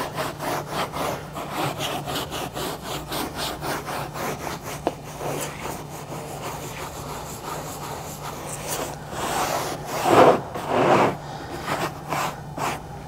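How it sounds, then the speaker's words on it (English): Soft bristle brush scrubs cleaning product into a carpet with quick, repeated rasping strokes, close and moderately quiet, growing rougher near the end. "I'm actually gonna work the product in with the soft bristle brush from the Detail Factory"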